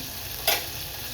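Asafoetida dropped into hot oil with cumin gives a brief burst of sizzling over a steady low frying hiss, with no voices.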